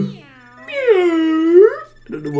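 A person imitates a cat with one long, drawn-out, wavering meow that rises and falls, followed by a brief moment of speech.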